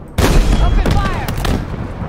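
Loud gunfire in the Halo Infinite video game, a dense burst of shots with booming impacts that continues for about two seconds, close and forceful.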